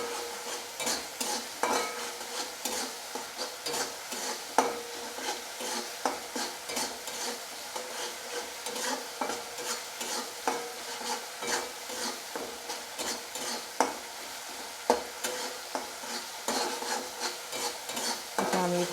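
Potatoes fry in a spiced masala for Bengali niramish aloo dum while a spoon scrapes and stirs them in the pan, a steady close sizzle punctuated by repeated rhythmic scraping strokes, with no voices.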